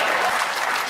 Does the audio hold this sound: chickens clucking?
no